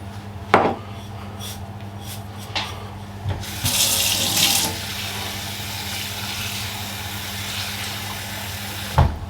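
Tap water pours in a steady stream into a pot of salted water in a home kitchen, preceded by a few light clunks and ending with a sharp knock.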